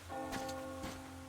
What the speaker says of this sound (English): Do you hear that bell?